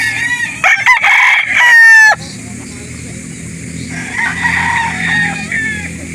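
A nine-month-old stag rooster at a Laguna livestock market crows loudly and close twice, with short clucks and farmyard chatter between the calls. A faint murmur of people sits underneath.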